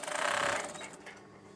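A sewing machine briefly stitches wave curtain fabric, giving a short close whirring burst that quickly winds down into quiet mechanical clicking, with no talking.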